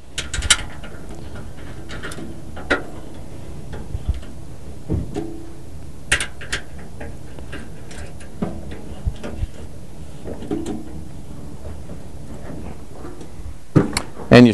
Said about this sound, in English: just make sure they're good and snug with the provided wrench